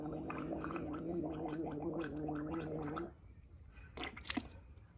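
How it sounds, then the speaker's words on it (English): Leftover nasal wash water gargled in the throat, a close bubbling warble for about three seconds, then quiet splashes and a brief spit. "If I have any left over, I'm gonna gargle"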